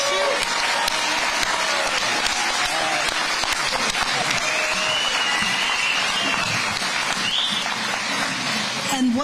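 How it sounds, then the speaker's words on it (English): A crowd at a Florida governor's news conference in Jacksonville applauds steadily, with dense, sustained clapping that holds for the full stretch. "give Governor DeSantis a round of applause for telling the truth on this important issue"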